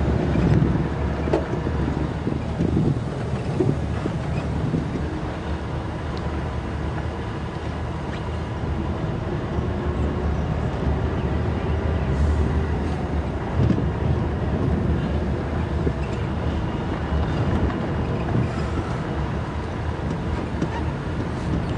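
Chilly wind roars across the microphone during an early-morning safari drive through a South African game reserve, a loud continuous rumbling buffet that mixes with vehicle noise for over twenty seconds, with no talk.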